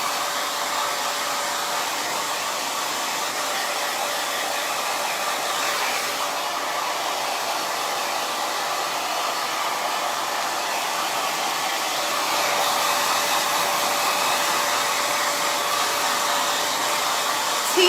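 Hair dryer blowing on the roots of hair, a loud, steady, close whooshing roar with a slight shift in tone near the end, alone without talk.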